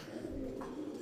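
A male indigo bar pigeon of Indonesian bloodline on a fancy-pigeon farm coos in low, rolling phrases at close range.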